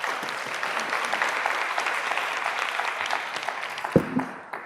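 Steady audience applause at a childhood obesity summit session welcoming a speaker to the stage, a sustained wash of clapping that fades near the end with a couple of louder thumps.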